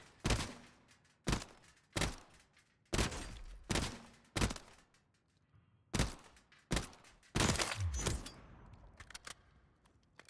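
SVA-545 rifle fire in Warzone, heard as sharp gunshots fired in bursts, some single shots and some quick doubles, with short echoing tails and a longer rattling volley near the end, close and alone.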